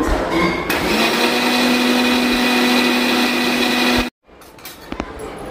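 A mixer grinder whirs loudly as it blends thickened milk with cardamom powder for cashew kulfi, a steady high motor drone for about four seconds that cuts off abruptly, followed by faint clatter.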